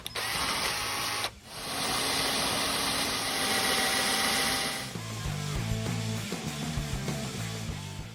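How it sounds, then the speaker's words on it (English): A Hyper Tough power drill drives a bolt extractor on a Yamaha motorcycle engine cover, giving a loud whining motor run that stops briefly, starts again, then drops to a lower, labouring grind. "we're going to be using our Hyper Tough power drill"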